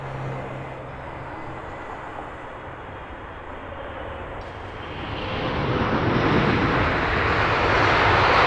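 Jet airliner from American Airlines at Heathrow Airport, a steady broad engine roar that swells louder over the last few seconds as it passes nearby, with no talking.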